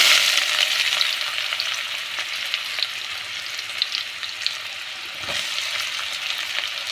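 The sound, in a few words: onions and mustard seeds frying in hot oil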